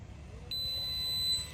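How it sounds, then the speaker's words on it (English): A single steady electronic beep from a remote control for a softwash tote, high-pitched and clear, holding for about a second before cutting off. "It's gonna give me an audible beep."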